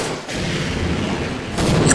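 Enemy gunfire in the video game Half-Life, a dense, loud burst of booming shots that holds steady for about two seconds with a short dip near the start.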